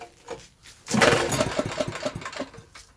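A 5k generator's small engine cranking on choke after a pull of the cord, sputtering and chugging in a quick burst of uneven pops before dying away.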